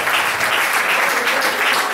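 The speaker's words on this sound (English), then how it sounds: "Come on, a round of applause, please." Audience applause at a talk on the gut microbiome, a dense steady wash of clapping held at an even level for the whole two seconds with no voices over it.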